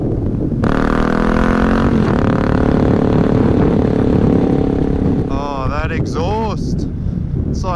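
A loud, steady Suzuki DRZ400 dirt bike engine drone runs under heavy wind buffeting, then rising and falling revving sweeps near the end as the bike accelerates and eases off.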